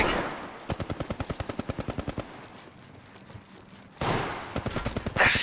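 Enemy automatic gunfire in Apex Legends Mobile rattles off in two rapid, evenly spaced bursts, the first long and steady, the second shorter after a brief lull, fairly close and crisp.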